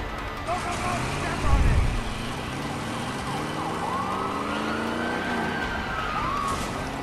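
Car driving at speed in the game A Way Out, a continuous engine roar with a deep thump early on and police sirens wailing through the scene, while voices talk over it.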